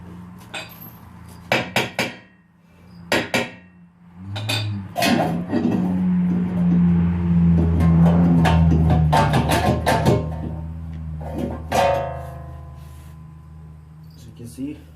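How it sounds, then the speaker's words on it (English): Metal parts clank and knock as the rotor and caliper come off a 2013 Chevy Malibu during a rear wheel bearing job, with sharp taps, a longer scraping rumble in the middle and further clinks near the end. "Now I can remove the rotor and the caliper."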